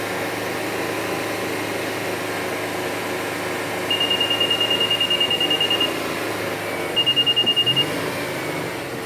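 Two bursts of rapid high-pitched beeping, a long run and a shorter one, from a carbon cleaning machine on a 2016 GMC 3.6L, sound over the steady drone of a running engine.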